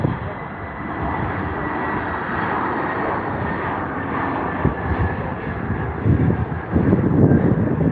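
Aircraft come in to land at London Heathrow at sunset. A broad, continuous jet roar fills the whole stretch, swelling slightly toward the end, with a voice speaking at times over the noise.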